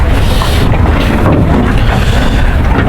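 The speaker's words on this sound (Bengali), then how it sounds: "এখন আমাদের ট্রলারটা যাবে সেতুর উদ্দেশ্যে" A trawler boat on the Padma river, its engine a loud, constant low drone mixed with heavy wind buffeting against the microphone, with no voices.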